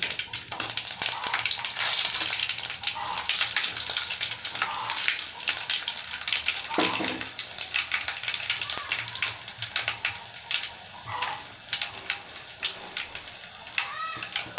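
Steady, loud crackling sizzle of tempering spices with dried red chillies and garlic frying in oil, continuous throughout with bright spattering pops and no talking.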